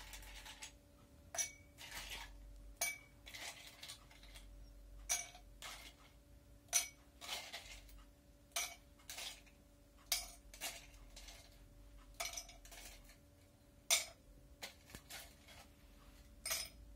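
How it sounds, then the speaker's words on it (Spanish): Ice cubes dropped one by one with tongs into a glass while making a gin and tonic, giving a string of sharp, bright clinks spaced every second or so, moderately close, with no talking. "Vamos a agregar el hielo en nuestro vaso"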